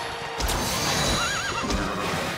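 A horse neighs and whinnies amid galloping hoof clip-clop during a horse race in the video game Dragon Quest XI, loud and close with a steady rumbling bed of hooves throughout.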